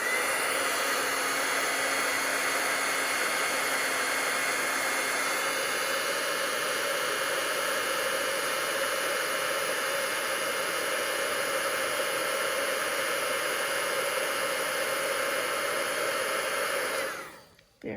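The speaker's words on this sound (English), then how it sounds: "So I'm going to take my heat tool and heat this up." A crafting heat tool blows hot air over a stamped card, a steady, loud, close whooshing hiss with a faint whine that runs unbroken for about seventeen seconds before cutting off abruptly at the end.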